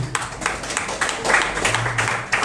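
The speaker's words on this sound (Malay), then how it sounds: "Satu tepukan kepada pengurusi yang hebat." A gathering at a political movement launch in Penang applauds its chairman, with a dense run of clapping near and steady throughout, a faint low hum sitting beneath it.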